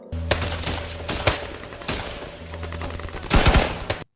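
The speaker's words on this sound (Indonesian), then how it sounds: "mereka bertemu dengan musuh, dan akhirnya pertempuran tidak terelakkan" Bursts of gunfire crack through a Vietnam War film battle, with repeated sharp shots and rapid fusillades, a dense volley near the end, over a low rumbling background.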